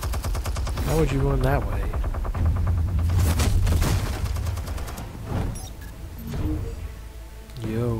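Gatling gun in Batman: The Telltale Series rattles in rapid bursts of heavy gunfire, close and loud, with pauses between volleys while voices talk over the shooting.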